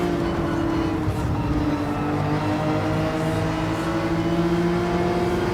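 A race car engine holds full throttle on track in Gran Turismo 7, a steady loud droning whine that rises slowly in pitch, close and continuous with no talk.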